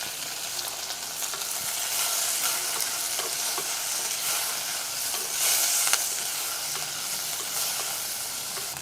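Green chillies, garlic and coconut sizzling in hot oil in a pan for coconut chutney, a steady dense crackle and hiss with occasional stirring scrapes, close and continuous.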